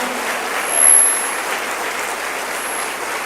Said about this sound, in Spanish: Dele otro aplauso.